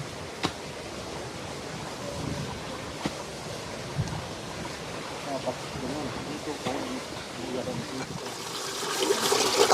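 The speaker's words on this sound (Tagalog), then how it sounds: "So ayan, nililinis ni nanay yung mga kaldero niya. Dahil Naglilinis unlimited ng yung kaldera tubig dito. sa tubig ng kabundukan." Cooking pots being washed outdoors with mountain spring water: a steady rushing, splashing wash with a few sharp clatters, moderately loud, with faint voices in the background.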